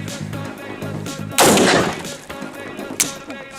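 A single loud gunshot from a budget AR-15 rifle cracks out at close range, followed by a fading tail and a second weaker crack, over background music.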